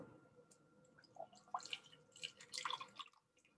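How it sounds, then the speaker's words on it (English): Water poured into a jar of packed sand, soft close trickling and dripping with small wet gurgles that build toward the end, fairly quiet and heard alone. "So I'm going to add more water in there."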